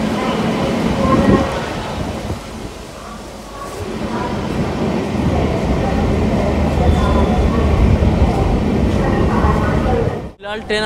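An Indian Railways Garib Rath Express (Amritsar–Saharsa, new LHB coaches) rolls slowly through Ludhiana Junction, Punjab, giving a steady low rumble of wheels and carriage noise throughout, with a voice talking over it and a sharp clatter near the end.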